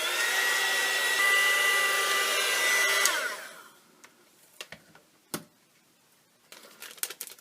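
A hair dryer blows steadily and close for about three seconds while an art journal page dries, then cuts off, leaving faint paper rustles and light taps.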